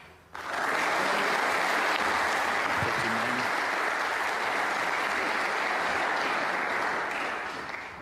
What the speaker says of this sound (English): Applause about to ring out from the other table